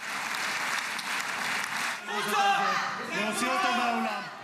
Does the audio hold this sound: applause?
yes